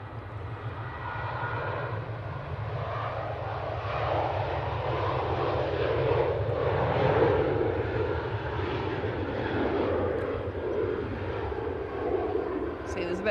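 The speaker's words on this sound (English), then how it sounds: "Ryanair 737 to Murcia." A Ryanair Boeing 737 jet at Manchester Airport, bound for Murcia, roars steadily at moderate distance, its engine noise swelling slightly then easing across the stretch, with people talking over it.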